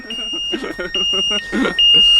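A CyklonEbike Teleport Prime e-bike's anti-theft alarm sounds as a loud, steady electronic tone with pulsing beeps, held near and rising in level, while people talk over it.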